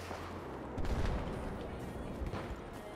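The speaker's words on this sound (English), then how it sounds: "Has got a hostile machine gun just west of your position." Machine gun fire rattles through the Battlefield game on the Dragon Valley map, with a heavier burst of shots near the start and scattered distant gunfire continuing over a dense battle backdrop.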